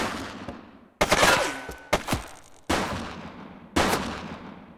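A shooting suspect firing in the police game The Precinct, five loud, separate gunshots roughly a second apart, each with a long echoing tail.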